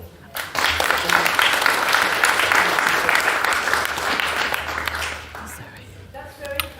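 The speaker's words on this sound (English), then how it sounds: "Please give her a round of applause" Audience in a lecture room applauding a speaker, a full round of clapping that rises quickly and sustains for several seconds before fading.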